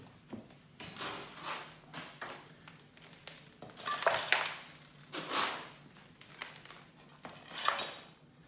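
Fresh concrete scooped into a slump test cone: a series of gritty scraping and clattering scoops, each a short burst, fairly faint and close, with pauses between.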